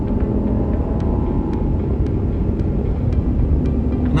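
BMW E60 M5 V10 engine held at around 6,000 RPM, a loud, steady, dense engine roar with a rich low rumble that sustains evenly throughout.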